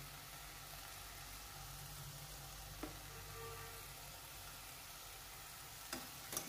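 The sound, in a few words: vegetables being sautéed in a pan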